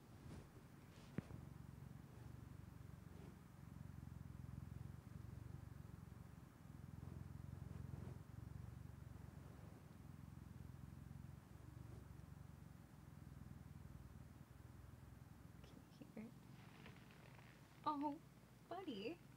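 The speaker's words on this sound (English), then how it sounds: "You guys hear him purring?" A pet cat purrs close to the microphone in a low, continuous rumble, faint and steady for most of the stretch, with a few other sounds near the end.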